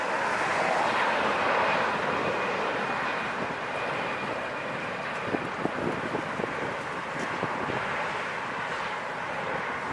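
A jet airliner takes off at Los Angeles International Airport, a broad, steady engine roar heard from a distance that gradually eases as the plane climbs away.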